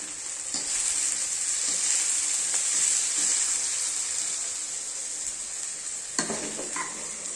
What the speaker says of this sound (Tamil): கடுகு சிறிதளவு வறுத்து போட்டுக்கொள்ளலாம்.